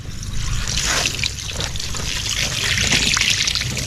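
Water is poured steadily into a pump to prime it, a continuous close trickling and splashing stream that lasts throughout.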